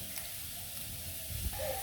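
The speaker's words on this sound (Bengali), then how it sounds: "এই যে আলু ভাজছি" Potato pieces fry with egg in a pan, giving a steady, soft sizzle that runs throughout, close by and fairly faint, with a brief clatter near the end.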